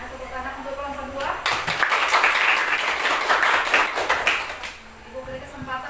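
A classroom group applauds a student group after its presentation: a short burst of close clapping from several people that rises suddenly, holds for a few seconds, then fades, with talk heard before and after.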